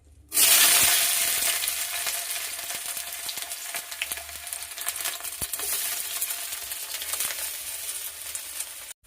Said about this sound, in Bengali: কড়াতে তেল গরম হয়ে গেছে, এতে এবারে এই পেঁয়াজ কুচিগুলো দিয়ে দিচ্ছি।